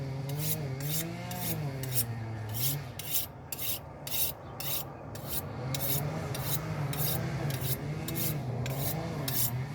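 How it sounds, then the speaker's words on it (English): A fish-filleting knife is sharpened with a rapid series of rhythmic rasping strokes, close and fairly loud, repeating evenly throughout with no talking. "Sharpen this knife up here."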